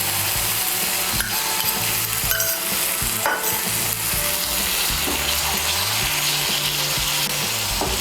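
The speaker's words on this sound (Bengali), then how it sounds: "গুঁড়ো মশলাগুলোকে ভালো করে মিশিয়ে নেব। মিশিয়ে নিয়ে মশলাটাকে আরেকটু কষিয়ে নেব।" Spice paste of cumin and coriander powder frying in a pan for chicken bharta, a loud continuous sizzle with repeated scraping and clinking of a spoon as it is stirred, a low hum underneath.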